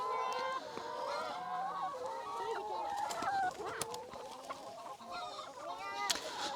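Several hens cluck and squawk close by, a busy overlapping chatter of calls with occasional sharper cries.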